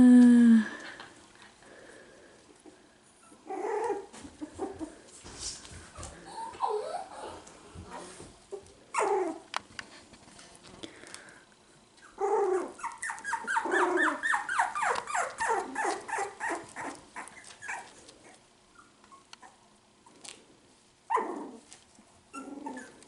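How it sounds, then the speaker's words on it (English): A four-week-old Cockapoo puppy howls and whines in a pen, rising and wavering cries in several drawn-out bouts with pauses between, close and clear. "Milo's howling at the moon."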